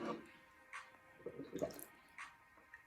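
Water is poured into a container for a density experiment, giving soft, intermittent splashes and trickles that come close up and fairly faint.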